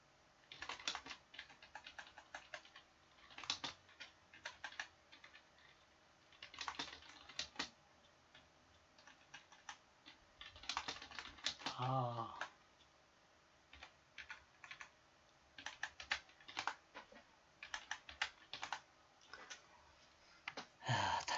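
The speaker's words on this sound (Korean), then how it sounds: "타이핑이 이렇게 힘듭니다." Keys clatter on a computer keyboard in faint, uneven bursts of rapid tapping broken by short pauses, quiet and close, with no talking.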